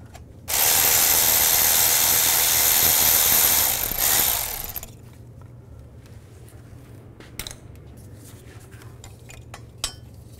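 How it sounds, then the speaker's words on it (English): A hand ratchet fitted with a 13 mm socket loosens bolts on a 2010-2017 Chevy Equinox, giving a rapid loud clicking burst for about four seconds, followed by quieter scattered workshop clinks and knocks. "I'm gonna use a 13 millimeter socket. There's two bolts coming in from the back side."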